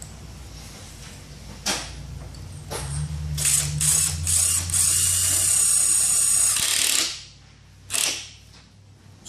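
A GRK screw driven into a roof joist through a flat-roof standoff base with a power drill: a long loud whirring drive of several seconds, preceded and followed by brief bursts, close and alone.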